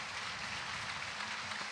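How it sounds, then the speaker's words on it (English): Crowd applause at a 4A state championship high school football game, the Andalusia Bulldogs against Pickens County, for an injured Cherokee County player; a short, steady, distant wash of clapping. "the applause you hear is for the young man for Cherokee County"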